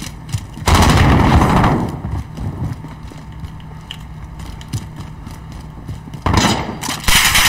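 Gunfire in the shooter game Call of Duty: Modern Warfare, with loud bursts of rapid shots around the start and again near the end and quieter game noise in between.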